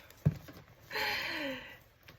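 Heavy rain pouring down outdoors, a steady broadband hiss rising for about a second after a brief thump, heard close and fairly loud with no talk over it.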